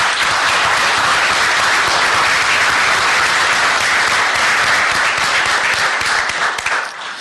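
Sustained, dense applause from the audience at a city transportation committee meeting, loud and even throughout before tapering slightly at the end.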